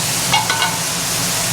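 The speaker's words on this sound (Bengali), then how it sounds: "চলো আমার বরবটিটা কেমন হলো আমি একটু নাড়িয়ে দিচ্ছি" Yardlong beans frying in a pan are stirred, giving a few short scraping strokes over a steady soft sizzle, close and fairly quiet.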